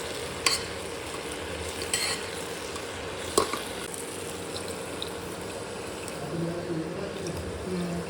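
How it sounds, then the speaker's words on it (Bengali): Soaked mixed lentils being stirred in a pan, giving a continuous wet shuffling and sizzling texture with occasional sharp clinks of a utensil against the metal, steady and close. "ডালগুলো দিয়ে একটু নাড়াচাড়া করে তারপরে দিয়ে দেবো জল"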